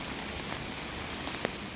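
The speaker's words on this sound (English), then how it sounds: "today I just want to take 60 seconds for you to experience rain in this glorious rainforest in this early morning" Rain falls steadily through a rainforest in the early morning, a dense, even hiss with scattered nearby drops tapping on leaves and surfaces, and no voices.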